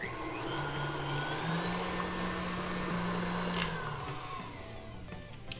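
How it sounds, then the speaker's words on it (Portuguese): Electric hand mixer with two beaters whipping homemade cake batter, a continuous whirring motor drone that shifts pitch slightly as speed changes, running steadily before fading toward the end. "Desliguei a minha batedeira"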